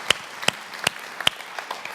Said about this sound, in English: So give yourselves a big round of applause right now.